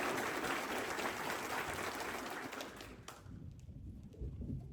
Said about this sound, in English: I want to give a round of applause to our national anthem singer